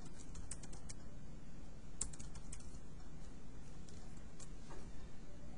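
Someone types on a computer keyboard while entering an email address on a registration page, with steady close key clicks and a few louder taps over a constant low room hum, no talking.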